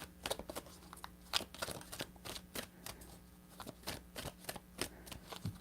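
Tarot cards being shuffled close up, a rapid run of crisp riffling and slapping bursts with short pauses, repeated several times in a quiet room.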